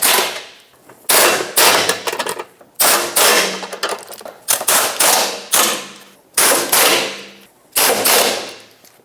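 Exhaust bolts are snugged up on a 2012-2021 Mazda 6 during a downstream oxygen sensor replacement, heard as loud, repeated bursts of rapid metallic rattling. About seven separate runs come up close, each separated by a brief pause.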